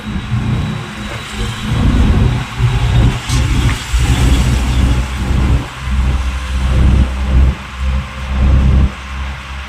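A car engine runs steadily while driving on the road to Wadwal near Mohol, with a low rumble that swells and dips in repeated surges as it accelerates, close and loud, with no talking.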